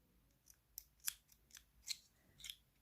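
Scissors snip a starting thread close to its root while making Turkish needle lace (iğne oyası) on a petrol-blue headscarf: a quiet run of about six short, crisp cuts spaced roughly every half second, with no talk.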